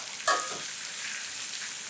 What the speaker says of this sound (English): The bigger mushrooms, I'm just gonna do a quick flip